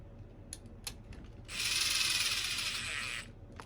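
Screws being snugged down on a scale RC truck body with a Chevy Squarebody shell: a few small clicks, then one close, bright mechanical whirring burst lasting about two seconds.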